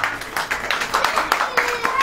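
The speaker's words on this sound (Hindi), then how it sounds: "ताली बजेगी कि नहीं बजेगी?" Church congregation clapping along in a quick, steady rhythm, a dense burst of hand claps filling the hall while a voice carries over it.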